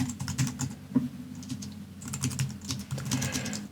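Someone types on a computer keyboard while working in Adobe XD, producing a quick, irregular run of close, light key clicks with short pauses and no talking.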